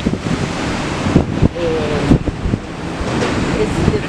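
Gentle ocean waves wash steadily onto Patong beach in Phuket, Thailand, under continuous wind buffeting, a broad rushing surf with a few soft thumps and no clear break rhythm.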